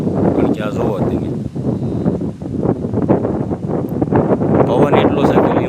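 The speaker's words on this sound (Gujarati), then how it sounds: "પવન એટલો છે કે લીમડા આખા, મને એવું લાગતું કે પડી જશે" Strong gusting wind roars through neem trees on a farm, a loud continuous rush with rustling swells, while someone talks over it.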